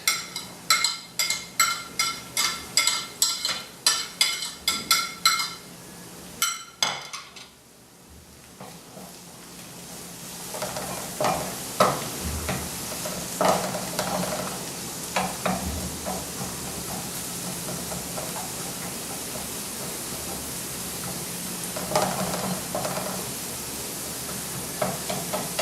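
Celery and carrots for acorn squash soup sautéing in a pot, a soft, steady hiss and sizzle that starts after a burst of rhythmic clattering, with scattered stirring clinks, close and fairly quiet, no talking.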